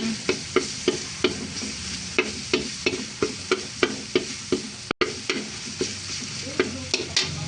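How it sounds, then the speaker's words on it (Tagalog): Garlic sautés in a pan for a chayote stir-fry, with a bright steady sizzle punctuated by evenly spaced spatula strokes scraping the pan in a brisk regular rhythm, close and clear, with no speech. "Igisa muna natin ang ating bawang."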